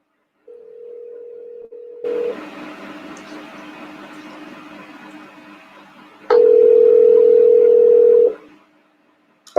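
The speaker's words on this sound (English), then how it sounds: "I'll ring him and see if we can continue the interview on the phone" Telephone tones on a call placed to resume a phone interview: a steady low tone, then a louder, longer sustained tone, alone with no talking.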